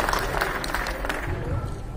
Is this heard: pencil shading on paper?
no